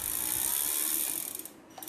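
An electric pulley hoist running at slow speed gives a steady mechanical ratcheting, gear-driven whir, close and continuous, easing off slightly near the end.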